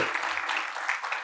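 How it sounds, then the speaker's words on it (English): Audience applause welcoming a speaker onto the stage at a banking conference's inaugural session: steady, dense clapping that stays loud throughout the short burst. "A big round of applause"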